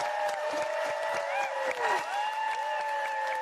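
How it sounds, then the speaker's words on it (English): A convention crowd at a William Shatner panel at San Diego Comic-Con cheers, screams and claps continuously, with whistles and whoops rising over the dense roar. "crowd screaming"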